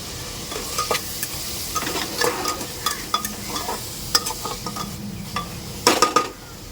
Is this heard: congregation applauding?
no